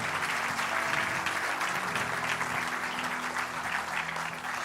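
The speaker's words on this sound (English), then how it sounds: "Guys, give them a round of applause for sure." A church congregation gives a sustained round of applause, dense overlapping claps forming a steady roar that holds at an even loudness throughout and eases slightly near the end, with no talking over it.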